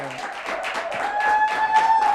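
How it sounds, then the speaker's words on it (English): Studio audience on a TV talk show applauding Senator Adeseye Ogunlewe's entrance, a short burst of moderately loud clapping with music tones sounding underneath. "Please, a round of applause as he comes in."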